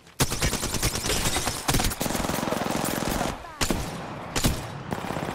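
Rapid automatic gunfire in Apex Legends, loud dense bursts of shots in quick succession with brief pauses between volleys.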